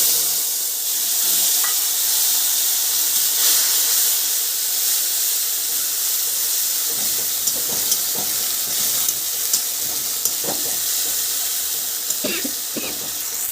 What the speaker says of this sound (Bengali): আমার মশলা ভাজাটা প্রায় হয়ে গেছিলো